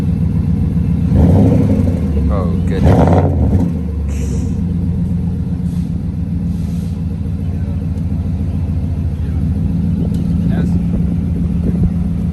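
Nissan Titan pickup fitted with a Flowmaster Super 10 exhaust, a loud, deep, continuous exhaust rumble nearby with brief revs, while people talk over it.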